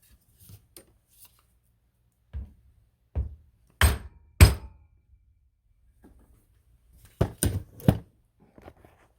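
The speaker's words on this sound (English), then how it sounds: "take a piece of 2x4, set it right there, get that hammer, give it a smack down into place" Hammer blows on a piece of 2x4 seating a suspension part on a 1997 Polaris Indy 500 snowmobile: several sharp, close knocks, a pair of loud strikes near the middle and a quick cluster toward the end, with quieter handling noises between.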